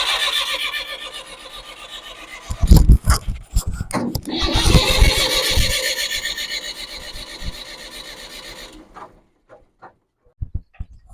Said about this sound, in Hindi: क्योंकि हमने चौक लेके रखा था इसलिए ट्रैक्टर ऐसी आवाज कर रहा था।